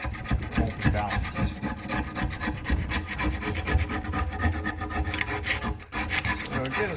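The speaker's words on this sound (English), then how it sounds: "Try and get all the chunks, major chunks off, because that will affect the balance of the blade." Scraper grinding caked debris off a lawnmower blade, a continuous close rasping scrape with rapid repeated strokes, loud and steady with a brief pause near the end, no talking.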